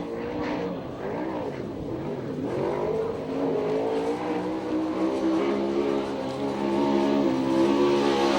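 A USAC/CRA sprint car laps a dirt track in Tucson, Arizona, its engine holding a loud, steady roar that wavers and climbs in pitch as it pushes through the turns, with no break in the sound.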